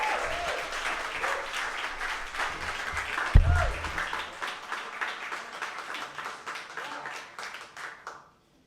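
An audience applauds after a performance at a celebration of expression event, dense sustained clapping with a few voices and a thump partway, gradually tapering before ending.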